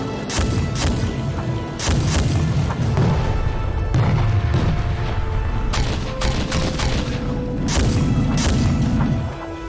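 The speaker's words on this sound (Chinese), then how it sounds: "大家注意，黄副军长的1号车准备开火" A Type 99A tank's main gun fires during a live-fire training exercise, producing a dense run of heavy booms and sharp blasts that keep the sound loud and rumbling throughout, with no voices.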